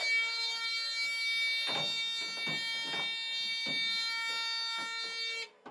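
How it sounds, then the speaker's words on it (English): A school bus emergency door alarm sounds a continuous high-pitched electronic tone steadily as the door opens, while several heavy clunks and thumps of the door mechanism land in between. "It opens, the alarm sounds."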